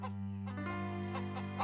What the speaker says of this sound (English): Caillou liked watching the chickens.